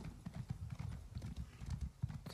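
Horse hooves clip-clop steadily in a ride through the Elder Scrolls Online game world, faint and quick with an even trotting rhythm.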